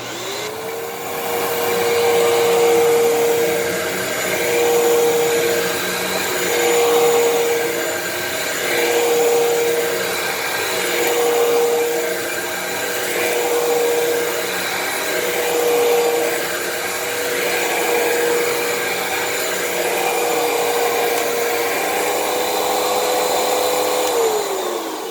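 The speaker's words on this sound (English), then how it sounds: "So first we'll run the Hoover." A Hoover vacuum cleaner with an odd-sounding brush roll on wind-down runs steadily for about 25 seconds, a loud close whine with a constant pitch and slight pulsing, starting up at the beginning and winding down near the end, with no speech.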